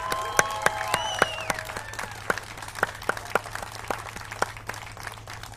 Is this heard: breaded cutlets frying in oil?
no